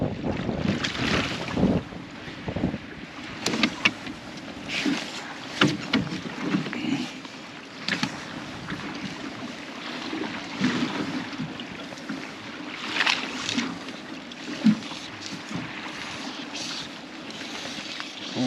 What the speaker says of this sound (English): There is a strong south wind blowing up the lake